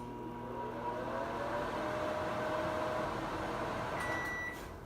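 A microwave oven hums steadily while heating a frozen corn dog, a constant close drone with faint tonal whine, ending in a brief high beep near the close.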